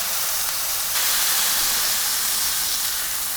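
Smash burger patties hitting a hot griddle and being pressed flat, a loud, steady sizzle that jumps up abruptly a second in and keeps hissing without a break.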